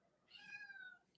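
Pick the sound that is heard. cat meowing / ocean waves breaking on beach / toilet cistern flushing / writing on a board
cat meowing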